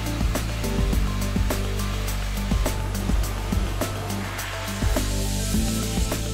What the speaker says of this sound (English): A protective coating of molten particles that's sprayed onto the component at high speed.